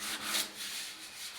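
Sandpaper of 150 grit rubs over hardened filler on a motorcycle fuel tank in a steady back-and-forth rasp, close and continuous with soft swells in each stroke.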